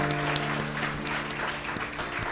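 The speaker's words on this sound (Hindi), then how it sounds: "Let's put our hands together for the Lord." Applause fills a church sermon hall, a dense, steady clapping from the congregation that continues throughout, with faint hum beneath.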